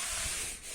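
A slipper rubbed and slid across a floor to make a horror-game sound effect, giving a steady close-up scraping hiss that holds almost unbroken for under a second, dipping briefly near the end.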